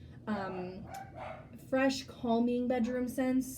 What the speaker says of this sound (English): Much better in here when they're barking though than when I'm right next to them.